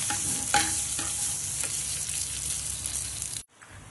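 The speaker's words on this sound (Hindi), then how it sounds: "चॉप कैश्यू डालेंगे एंड चॉप आलमंड्स डालेंगे और इसको थोड़ा सा सौते करेंगे।" Chopped cashews and almonds sauté in ghee in a pan, making a steady, close sizzle with brief stirring scrapes for several seconds before it cuts off abruptly.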